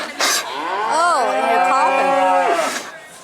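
A cow on a farm gives one long, close, loud moo that rises and wavers in pitch over about two seconds, with a short breathy sound before it.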